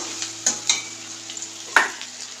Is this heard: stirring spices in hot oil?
yes